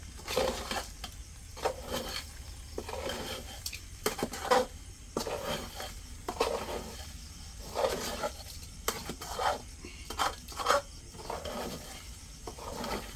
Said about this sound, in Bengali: অনেকক্ষণ এটারে চালটা আর ডালটা কষিয়ে নিতে হবে।